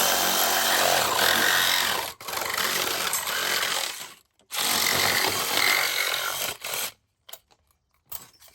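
A power saw with a metal blade cuts loudly through concrete-trellis material in long continuous passes, briefly stopping twice, then winding down into quiet near the end.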